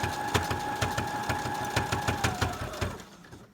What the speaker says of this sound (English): I'm going to sew the short pleated edge with a triple stitch.